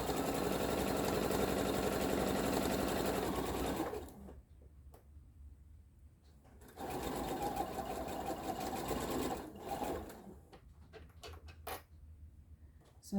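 A sewing machine runs steadily for about four seconds stitching a long, straight bias seam for an Interwoven Star quilt, then stops, followed by a second sustained run of stitching with quiet handling noises between.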